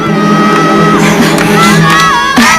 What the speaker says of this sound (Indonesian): itu suara teriakan Ayu sama Raras